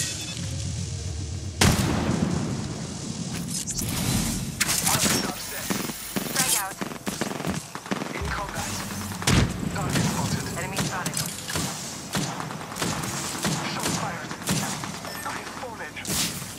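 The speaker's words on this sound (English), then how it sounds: "Getting shot from two directions." Gunfire and explosions in the Apex Legends battle royale, with bursts of weapon shots, impacts and a loud blast, sustained and near, under game voices and radio-style callouts.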